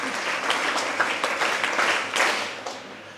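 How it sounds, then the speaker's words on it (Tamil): Audience of a girls' higher secondary school in Erode applauding at a prize event, steady clapping from many hands, moderately loud and close, with a few swells and no talk. "கைதட்டுங்க."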